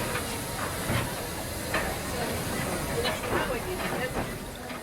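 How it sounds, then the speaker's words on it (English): Two steam locomotives double-heading a train past the lineside at an Easter steam gala, a soft, distant hiss and rumble with faint rail clatter, fairly steady throughout. "There's the double header coming back now."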